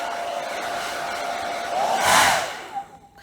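A hairdryer blows hot air over henna-covered hair, a continuous close whooshing roar that swells louder briefly as the airflow shifts, then cuts off near the end.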